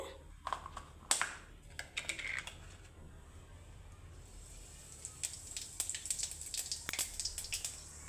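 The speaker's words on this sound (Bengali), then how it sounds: "কয়টা জিরা ফোড়ন দিলাম" Cumin seeds crackle and pop in hot oil, with sharp, scattered snaps over a steady faint sizzle, heard alone and fairly quiet.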